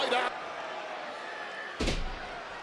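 A wrestler on WWE Monday Night RAW is clotheslined and slammed to the ring mat, landing as one heavy, booming impact partway through over a steady arena crowd murmur, after a brief burst of noise at the start.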